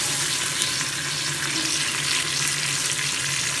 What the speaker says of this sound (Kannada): ಹಾಕಿ ಚೆನ್ನಾಗಿ ಫ್ರೈ ಮಾಡ್ಕೋಬೇಕು